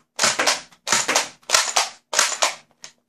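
Nerf Strongarm toy blaster slam-firing darts, four quick plasticky clack-and-whoosh shots in a steady rhythm, close and crisp with silence between each.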